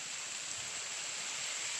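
Rain falls steadily outdoors at night, a soft even hiss of drops with no distinct impacts, faint and continuous with no voices.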